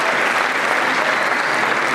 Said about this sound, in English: Give her a round of applause as she takes her seat and her family takes theirs.